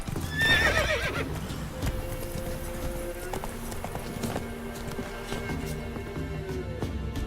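Roach, a horse in The Witcher 3, gallops with a rhythmic clip-clop of hooves throughout, opening with a loud, close neigh and then running on steadily.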